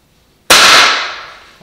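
A nail gun fires a single sharp, loud shot driving trim molding into a wall against sheetrock, with a bright burst that decays over about a second.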